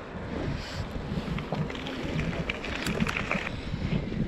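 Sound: wind blowing

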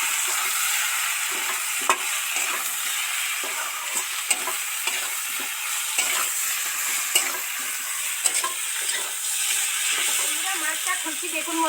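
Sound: stirring spices in frying pan

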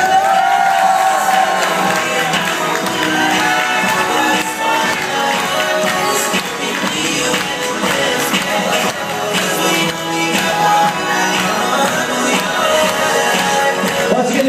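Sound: wedding guests applauding and cheering

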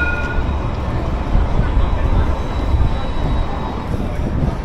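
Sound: trams running on George Street, Sydney

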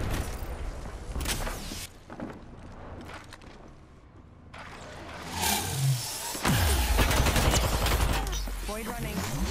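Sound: gunfire in Apex Legends video game, R-301 rifle

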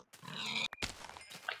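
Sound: pigs oinking in the video game Minecraft

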